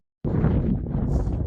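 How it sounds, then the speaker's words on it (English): Wind gusts across a hillside campsite on the Pennine Way near Great Shunner Fell, buffeting the microphone with a loud, low rumbling roar that starts abruptly and keeps blowing steadily to the end. "Hope you can hear alright because it's windy."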